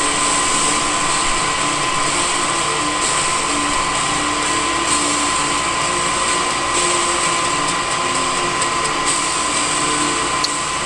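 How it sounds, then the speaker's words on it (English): A well pump runs with a steady, unbroken mechanical whine and hiss at moderate distance, constant in level from start to finish with no voices. "while the well pump's running"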